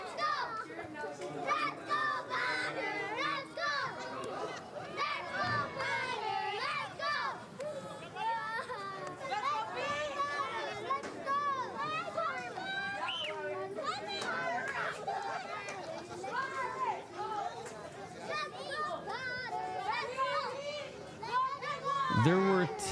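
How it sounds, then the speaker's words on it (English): Children cheer and shout at a Brewers vs Pirates master's league championship baseball game, a steady lively crowd of young voices with excited yelps, continuous and fairly close throughout, with adult talk mixed in. "at least the kids are cheering for these guys"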